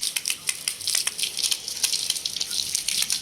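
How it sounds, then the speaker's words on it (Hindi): Water pours into a tub set out for animals at an outdoor spot, a soft continuous splashing and trickling at moderate distance with small drip-like bursts. "इस टब में भी पानी डाल दिया है"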